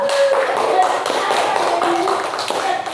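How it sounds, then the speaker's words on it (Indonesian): Classmates in a school teaching-practice session clap for a group returning to their seats, a dense patter of hands mixed with overlapping chatter and voices in the room. "Tepuk tangan dulu untuk kelompok 2"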